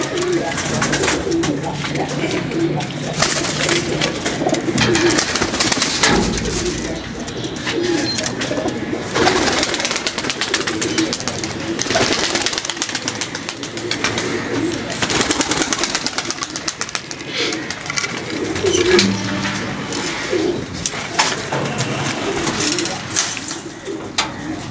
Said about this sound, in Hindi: ये निकाले हैं कबूतर उड़ाने के लिए,